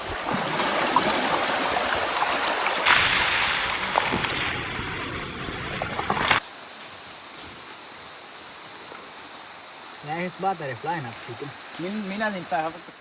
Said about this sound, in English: The cool, refreshing creek was definitely worth the hike.